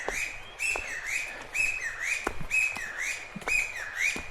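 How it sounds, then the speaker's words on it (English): A bird calls repeatedly on a forest pilgrimage trail of the Kumano Kodo in Japan at sunrise, clear whistled phrases with rising and falling notes about once per second, close and prominent with no one talking. "this is a very distracting bird."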